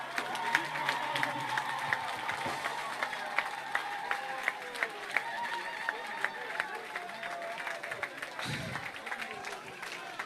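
A church congregation applauds and cheers for Jesus during a worship service, a steady rhythmic clapping with scattered shouts filling the room, while a voice speaks and sings over the crowd.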